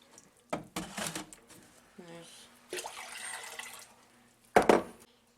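Spring water splashes and pours in short bursts into a container of kombucha tea concentrate with tea bags, with quiet gaps and a faint hum between the pours.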